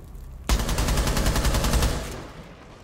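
Rapid automatic gunfire in Rainbow Six Siege, shots punching through a barricade in a fast, even burst of about a second and a half that stops abruptly and leaves a short fading tail.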